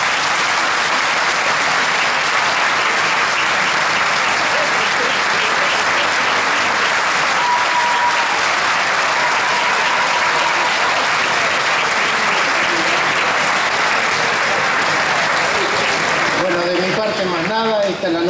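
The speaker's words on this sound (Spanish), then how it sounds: "le brindamos un aplauso." Crowd applause for a raffle winner at a presentation and awards ceremony for volunteer firefighters in Coronel Dorrego: loud, dense and steady for the whole stretch, with voices mixed in.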